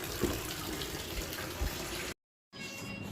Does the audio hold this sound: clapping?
no